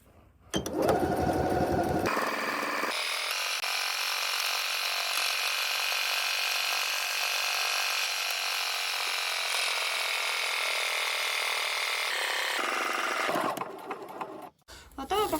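A household sewing machine fitted with a standard presser foot stitches heavy fabric in one steady whirring, rattling run of about eleven seconds, loud and close, bracketed by brief handling noises at the start and finish.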